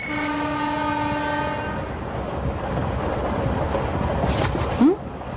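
In a Doraemon cartoon, a train horn sounds briefly at the start, then a steady rumbling of rail cars rolls on, with a short bright squeal near the end.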